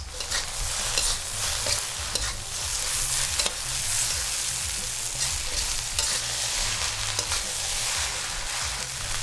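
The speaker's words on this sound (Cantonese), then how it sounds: "After 40 to 50 seconds of stir frying" Pineapple fried rice with green onions sizzling and being tossed with a metal utensil in a wok, scraping and clattering in a quick, uneven rhythm, close and loud.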